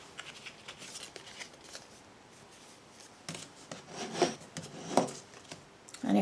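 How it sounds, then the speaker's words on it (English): Card stock is folded along score lines and burnished by hand. Soft, close rubbing and scraping strokes come in irregular bursts that grow louder toward the end. "So your first job is to fold those score lines and burnish them."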